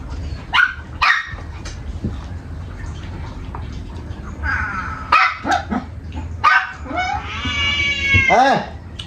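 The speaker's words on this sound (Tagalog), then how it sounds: "Gulo ng mga alaga namin." Pet cats and dogs make a noisy racket at home, with repeated meows, yowling caterwauls and several barks coming in bursts. A rising, drawn-out cry closes the sequence, and household background sound runs underneath throughout.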